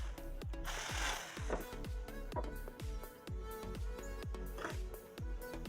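A 16 mm drill bit bores 45-degree holes into wood for a wooden towel rack, giving a close, busy run of repeated rattling bites and chattering impacts.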